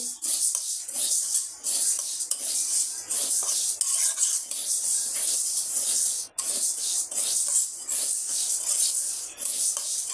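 Mung dal is fried and stirred in a pan, giving a continuous dry scraping and rustling hiss with small gaps, close and fairly loud.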